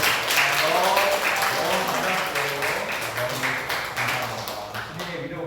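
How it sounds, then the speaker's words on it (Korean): A church congregation at a Sunday worship service breaks into loud, sustained applause that fills the room and slowly tapers off. A voice speaks briefly over the clapping. "우리 뜨거운 위로의 박수로 맞아주셨습니다"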